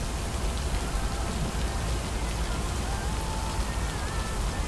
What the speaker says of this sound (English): that's some weird thunder in my ear